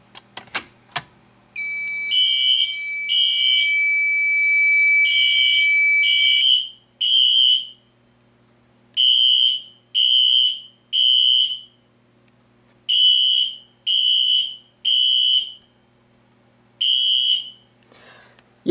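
A newly installed fire alarm system sounds during a zone test, first a continuous electronic tone with a buzzing layer, then a steady run of short repeating beeps with even gaps, loud and close, with no talking.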